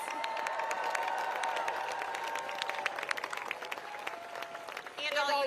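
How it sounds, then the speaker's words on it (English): A crowd at a Stand Up for Science rally in Washington DC breaks into sustained applause and some cheering, with a voice speaking over the clapping throughout. "if we could please give them a round of applause"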